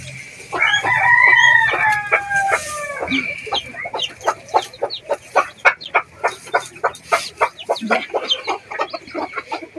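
A hen with newly hatched chicks in a straw nest, a brief crowing call at first, then a long run of rapid, rhythmic sharp peeps and clucks close by.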